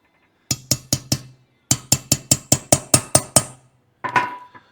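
A socket tapped onto valve seals on an engine head during a 4th-gen Trans Am engine build: a close series of sharp metallic taps, four, a pause, then seven more in steady rhythm, followed by a brief scraping clatter.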